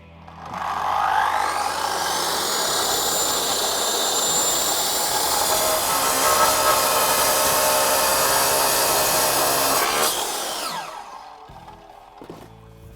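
R230 DCT 9-inch electric power cutter slicing through a modern block paver, a loud sustained high screaming whine of blade and masonry for about ten seconds, then the motor winding down quickly as the brake stops the blade.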